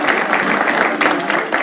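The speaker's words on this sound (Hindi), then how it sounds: "तालियां इनके लिए।" A studio audience claps for a winning contestant who receives a cash prize, with a short, brisk burst of steady, fairly loud group applause.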